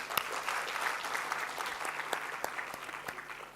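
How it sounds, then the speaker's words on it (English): An audience claps at a lecture, a dense, steady round of applause from a crowd, sustained at moderate loudness with no voices over it. "Please give him some applause."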